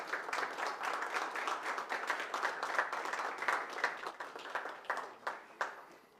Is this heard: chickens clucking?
no